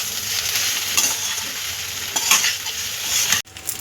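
Masala idli with coriander is stir-fried in a pan, a steady sizzle broken by scraping stirs of the utensil against the pan, ending with a sharp knock; no one speaks.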